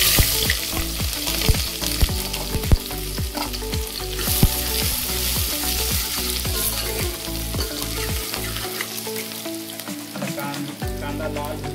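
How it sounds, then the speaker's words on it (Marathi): Onion fries in oil in a pan for a spicy village-style mutton curry with a dense, loud crackling sizzle. Repeated spatula scrapes and taps come throughout, and the sound is close and has no talk. "कांदा लाल होईपर्यंत आपण याला कढून घेऊ चांगलं."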